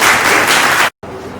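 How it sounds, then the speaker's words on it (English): A student audience at an essay and elocution competition claps for the speaker, a loud burst of close, dense clapping that cuts out abruptly, then resumes more quietly. "Please give us a good round of applause."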